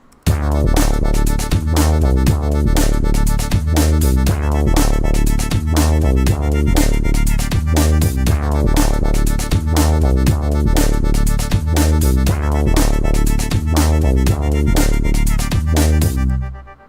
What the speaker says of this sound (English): put that auto pan effect on with the 16th note rate, so it sounds really choppy